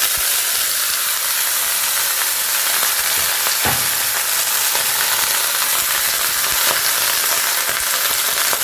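Small fish frying in leftover oil in a pan, a loud, continuous broadband sizzle with fine crackling and one brief knock partway through.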